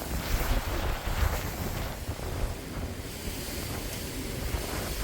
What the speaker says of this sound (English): Oh, the wind tanking through.